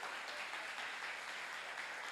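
Congregation applauding inside a church, a dense, steady wash of clapping filling the space evenly throughout with no single claps standing out.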